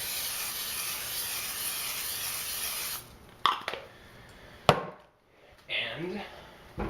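A steady hiss of cooking spray for about three seconds, then a few clatters and knocks of a pan being handled.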